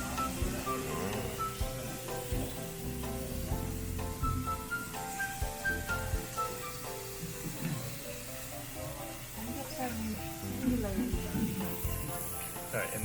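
Samgyeopsal pork belly sizzles steadily on a Korean BBQ grill, a constant close crackling hiss running beneath background music and ambient restaurant sound.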